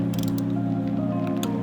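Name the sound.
torque wrench tightening bolts to 13 foot-pounds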